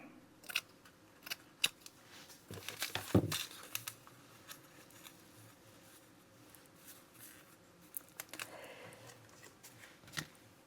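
Scissors snipping through card for a daily journal spread, a scattered series of short crisp cuts and paper rustles up close, with a denser cluster of snips midway through.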